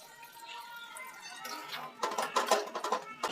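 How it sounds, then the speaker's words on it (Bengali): Water splashes into a cooking pot of shukto that already holds dissolved milk, a short burst of close pouring after a quiet stretch. "এতে দিয়ে দেব জল"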